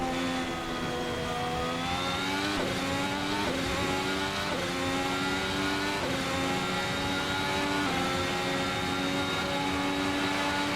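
A Ferrari works race car engine in Assetto Corsa screams continuously at high revs, loud and close, with rising pitch through the gears and brief dips at each upshift where small pops crackle.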